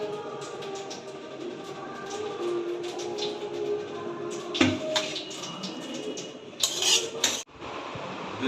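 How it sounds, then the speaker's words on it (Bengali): Chowmein with prawns and egg is tipped out of a pan, with scraping and clattering metal against cookware, a few sharper knocks and a louder rattling burst near the end, over a steady background hum; no talking. "চাউমিনটা ঢেলে দিলাম"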